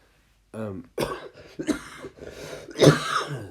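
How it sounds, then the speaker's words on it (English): A brief vocal sound, then a few rough, throaty coughs in quick succession, close and moderately loud. "Sorry for the cough."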